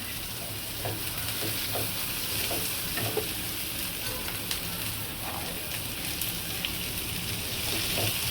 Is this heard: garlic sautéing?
yes